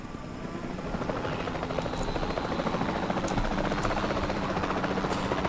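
A helicopter in the video game Jurassic World Evolution 2 gives a steady, buzzing rotor hum that grows slightly louder over several seconds, alone with no voices.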